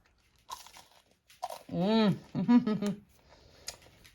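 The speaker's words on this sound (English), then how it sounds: "see how nice and crunchy this bread is" A short burst of crunching as someone bites into crusty Italian bread, with a voice and chewing sounds around it, close up.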